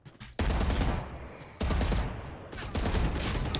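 Gunfire in a competitive first-person shooter video game comes in loud, close bursts of rapid shots separated by short gaps, with faint talk beneath.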